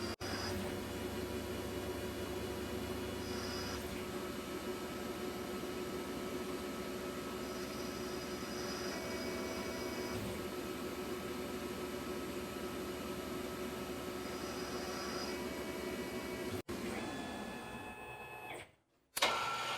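Tormach lathe cutting a relief groove with a small grooving tool: a steady, fairly quiet machining whir and hum held for most of the stretch, with faint whines coming and going, then stopping abruptly near the end.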